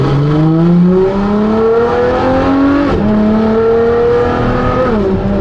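A Ferrari LaFerrari sports car engine revs up through the gears in manual mode on an empty road, rising pitch with a brief drop at a shift, loud and close with no talk.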